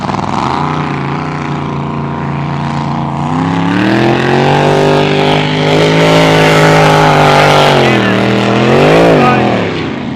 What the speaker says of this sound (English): We're going to get drowned out by that beautiful 27-litre Rolls-Royce Merlin